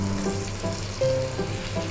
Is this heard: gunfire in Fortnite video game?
no